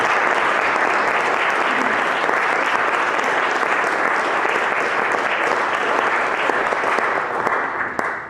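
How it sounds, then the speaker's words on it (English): Audience at a St Michael's spring series talk applauds the speaker Neil after his lecture, thick continuous clapping that holds loud and steady, then tapers off near the end. "Can we give a round of applause?"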